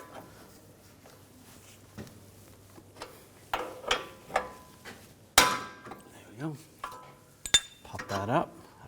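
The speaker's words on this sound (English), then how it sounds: "Now you can tap this with a hammer, try to get that out" Hammer taps on a Volkswagen Jetta (2011-2018) outer tie rod end to free it from the steering knuckle: a run of sharp metallic knocks and clinks at irregular intervals, close and moderately loud, with some quiet movement between strikes.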